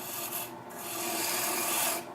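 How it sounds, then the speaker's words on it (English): A Sorby swivel-tip scraper with a small half-round bar cuts a wooden goblet on a lathe, giving a close, steady rasping scrape that runs unbroken for about two seconds with no talking. "This is a Sorby scraper with a swivel tip end with a small half-round bar in it"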